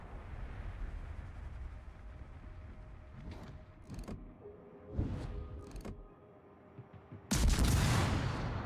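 Warship guns in World of Warships, including the Missouri, firing in several heavy booming salvos with rumbling tails, then a louder roaring blast near the end over a constant low engine and sea drone.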